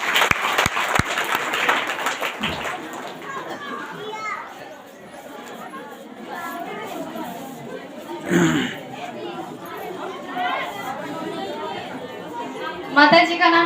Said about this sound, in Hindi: इसलिए बहन परमेश्वर को जोरदार तालियों का धन्यवाद देती है।